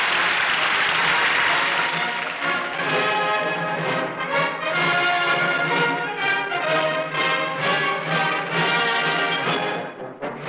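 A stadium crowd applauds Korean athletes in white trousers and cobalt jackets as they march in waving fans at a sports opening ceremony. A broad wash of clapping opens, then loud band music largely covers it.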